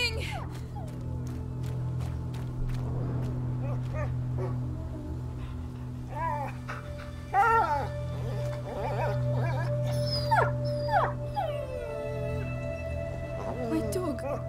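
A dog howls and whimpers in the medieval stealth video game A Plague Tale: Innocence, its drawn-out cries rising over a steady low hum and game ambience, with a few sharper yelps and a voice speaking partway through.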